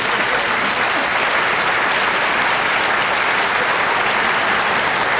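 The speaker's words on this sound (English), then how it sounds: "I thank you for the applause" An audience at a health care and social justice talk breaks into loud, sustained applause, a dense even wash of clapping lasting throughout.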